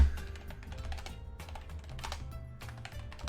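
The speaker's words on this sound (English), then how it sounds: "I have no idea why I'm typing out here, but you know." Computer keyboard typing in quick irregular bursts of close, crisp key clicks during an online Riichi Mahjong game session, with no talk.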